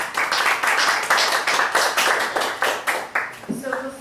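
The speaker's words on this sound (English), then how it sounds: "Another big round of applause for Raghav, and thank you so much for coming" Audience applause at a youth community event, a small group clapping in a rhythmic, hand-by-hand pattern, close and fairly loud, fading into a voice starting to speak at the end.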